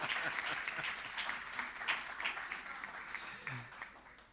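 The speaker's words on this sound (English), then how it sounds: "Clap them." An audience at an accreditation awards ceremony claps, a broad, sustained patter of many hands that gradually thins toward the end, with a faint voice briefly underneath.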